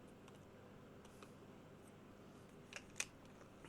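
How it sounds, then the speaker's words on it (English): A Pentax K10D camera shutter gives a faint, quick double click near the end of a quiet room, with a softer tick just before it. "Do you like that shutter click?"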